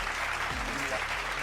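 Studio audience applause welcoming a theatre director as an interview guest, a short burst of clapping close by with a voice speaking over it.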